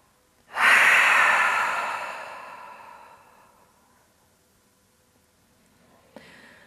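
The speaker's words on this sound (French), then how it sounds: "on vient prendre une grande inspiration par le nez, grande expiration par la bouche" One deep yoga breath, drawn in through the nose and let out through the mouth, comes as a long airy exhale that swells and fades over a few seconds, close and alone, ending with a faint rustle.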